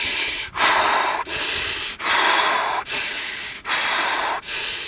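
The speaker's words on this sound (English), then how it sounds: "You're gonna feel your body start to take deep breaths." Deep, rhythmic breaths during a cold-water plunge, close and loud, with long rushing inhales and exhales alternating about every second, alone without talk.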